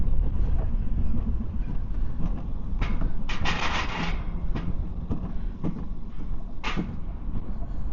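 Alpine coaster ride in Scotland, heard from the rider's seat: a continuous rumbling roll of wheels on the track with repeated clacks and rattling bursts, loud and close throughout, with no talking.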